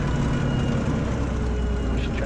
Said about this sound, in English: Just check the engine runs at low RPM.